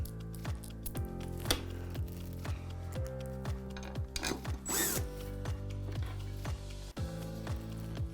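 Screws being driven with washers into an office chair seat mechanism, giving repeated ratcheting clicks and short power-tool whirs close up, in a steady run of turns.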